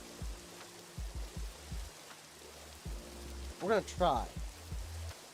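Rain falling in the modded Minecraft Java Edition video game, a steady background hiss under someone talking, with short choppy game sounds recurring throughout.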